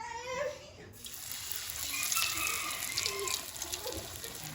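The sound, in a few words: tap water running while rinsing salted bitter melon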